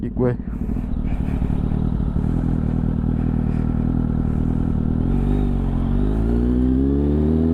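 A Kawasaki Z800 motorcycle ridden along a forest trail for wheelies makes a loud, close engine drone with clattering, climbing in pitch as it revs up near the end, while voices talk over it.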